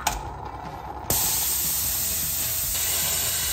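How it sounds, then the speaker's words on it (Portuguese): The safety valve of an Italian moka pot, overpressured by milk inside, vents with a loud continuous hiss that bursts in abruptly after a second of quieter sputtering and holds steady throughout. "essa é a válvula de segurança da cafeteira, ou seja, o leite fez aumentar demais a pressão"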